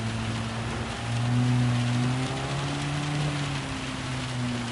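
Heavy rain in the Gran Turismo Sport racing game at the Red Bull Ring, a dense steady hiss of rainfall blanketing the scene with a low engine drone shifting pitch beneath it, no talking.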